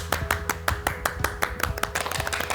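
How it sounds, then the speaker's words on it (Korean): A studio audience on a morning TV lecture program claps to welcome a doctor, giving a close, rhythmic run of distinct hand claps over a low background tone, with no talking. "우리가 박수로 이동환 선생님의 강의 청해 보겠습니다"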